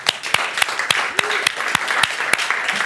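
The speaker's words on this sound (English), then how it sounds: "I think they deserve a round of applause" A small audience at a developer meetup applauds, a modest patter of scattered claps with distinct individual hand strikes, steady for a few seconds.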